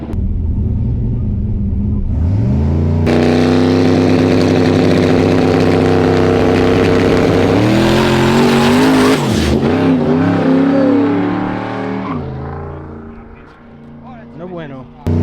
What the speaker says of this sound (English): Hey, that boy liked them burnouts.